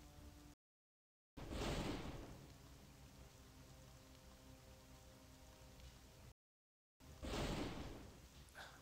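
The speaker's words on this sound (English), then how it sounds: "Looks like a sudden storm has arisen." Sudden storm sound effect in a video game: steady hiss of heavy rain with low rumbling swells of thunder, interrupted by two brief silences, distant and moderately quiet.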